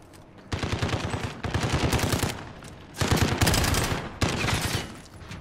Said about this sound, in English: It's a Striker 45. So it's a 45 caliber submachine gun.